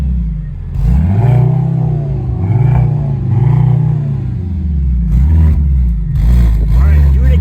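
A Mercedes-AMG GLC 63 SE Performance engine revs from inside the cabin, rising and falling in repeated deep surges, loud and close, with someone talking over part of it.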